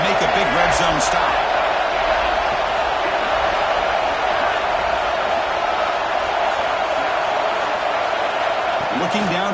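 A roaring stadium crowd in the college football video game NCAA 26 keeps up a dense, continuous wall of noise as fans urge on the defense for a red zone stop.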